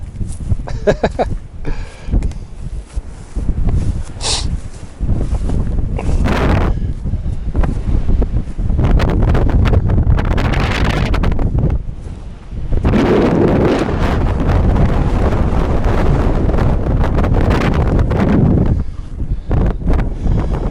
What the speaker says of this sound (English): Wind is picking up, obviously.